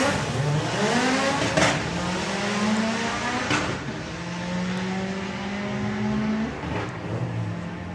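A Volkswagen drag racing car makes a full qualifying pass at the VWDRC National Finals. Its loud engine climbs steeply in pitch, drops briefly at each gear change and keeps pulling hard, with no voices throughout.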